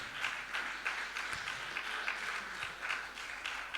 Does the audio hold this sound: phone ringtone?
no